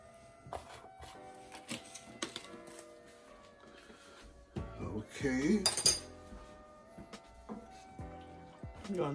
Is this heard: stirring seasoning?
yes